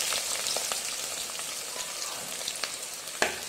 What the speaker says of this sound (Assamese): মই এতিয়া দিছোঁ জিৰা 1 চামুচ, কাটি থোৱা জলকীয়া আৰু পিঁয়াজখিনি মই দি দিছোঁ